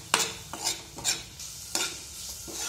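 Spoon stirring red chilli powder, garam masala and turmeric into a paneer filling in a pan, several distinct scraping strokes with faint sizzling between, close and clear with no talking.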